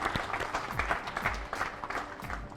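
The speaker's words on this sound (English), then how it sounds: "So let's give them a round of applause." An audience applauds steadily, a dense patter of many hands clapping at moderate volume for a couple of seconds.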